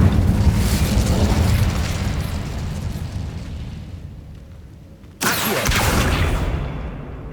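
A fiery Incendio spell in Hogwarts Legacy roars as a sustained, loud rumbling blast that slowly fades, then a second sharp explosive burst erupts near the end and rolls on.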